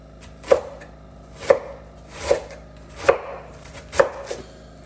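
A kitchen knife slices cabbage thinly for curtido, giving five sharp, evenly spaced chops close by against a quiet background, with no talking.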